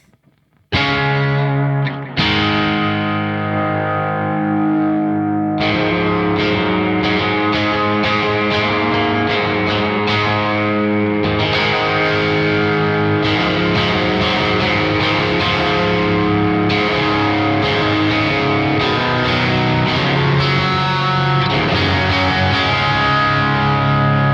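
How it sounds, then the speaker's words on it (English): A distorted, saturated instrument line played through a BOSS RE-202 tape echo, repeats smearing and thickening into a continuous, gritty wash with no talking. "So you can clearly hear how much the saturation's affecting that echo."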